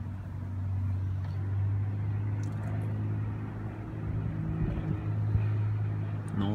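A 1990 Lada Niva VAZ 2121 engine idles steadily with a low, even hum, close and continuous throughout.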